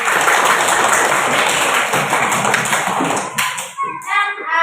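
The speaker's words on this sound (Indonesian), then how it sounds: "tepuk tangan untuk kita semua" A classroom of children claps together in a dense, steady patter of applause at a school lesson, loud and close, with young voices mixed in before it thins out and breaks up near the end.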